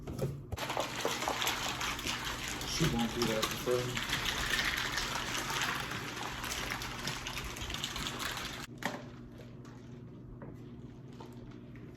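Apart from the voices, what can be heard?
shaking drink mix in water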